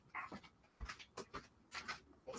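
Faint, close whimpers and soft whines from a small brown-and-white chihuahua, in short repeated bursts with a quiet, hissy room in the background and no talking.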